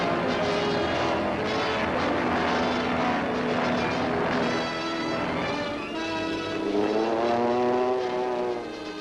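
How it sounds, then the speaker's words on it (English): Propeller engines on Second World War warplanes drone and rise as they warm up for takeoff, with a steady near hum and wavering pitch sweeps, no voices. "Planes warm up for a hazardous takeoff through wind and rain."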